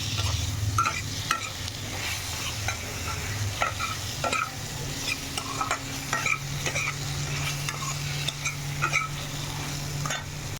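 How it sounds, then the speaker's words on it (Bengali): Potatoes dusted with turmeric powder are stirred and fried in a pan, a constant sizzle under repeated scraping and tapping of the spoon, with a low steady hum from the stove running beneath. "হলুদের গুঁড়ো দিয়ে দিয়েছি, দিয়ে ভালো করে নেড়ে চেড়ে যখন একটু ভাজা ভাজা হয়ে যাবে"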